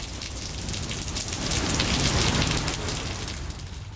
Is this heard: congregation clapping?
no